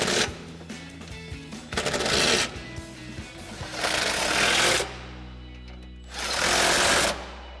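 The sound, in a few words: impact wrench tightening bracket bolts with sockets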